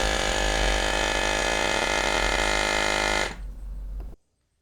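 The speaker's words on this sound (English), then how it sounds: "So we just checked out the Airmoto portable smart air pump." An Airmoto portable smart air pump drones loudly and steadily at close range while inflating a bike tire to 50 psi, then cuts off abruptly, leaving a brief softer hiss before silence.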